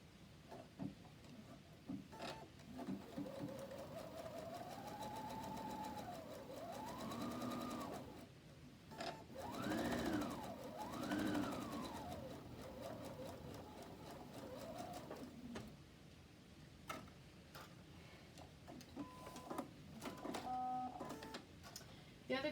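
A domestic sewing machine topstitches a Pendleton '49er shirt at a 2.5 stitch length, its motor whirring in steady runs that swell and ease as the speed changes, close and clear, with a few brief clicks near the end.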